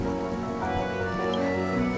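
Steady rain pours down in the game Honkai Star Rail, a soft, even patter of drops that runs unbroken beneath layered music for the whole stretch.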